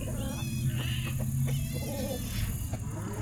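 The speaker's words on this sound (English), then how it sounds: "Can y'all hear those hogs, man?" Hogs fighting on a farm, squealing in short, high, strained bursts over a constant low background drone, moderately distant and fairly quiet.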